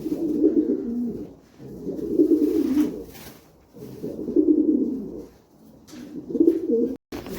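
Pigeons cooing in a racing pigeon loft, repeated low throaty phrases in rhythmic bursts close by, with short gaps between calls and no talking.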